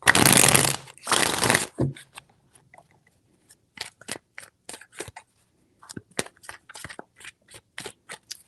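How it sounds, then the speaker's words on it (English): Tarot cards riffle in two loud shuffles at the start, followed by a string of short crisp snaps and taps as the deck is handled and cut, close and dry. "Three shuffles."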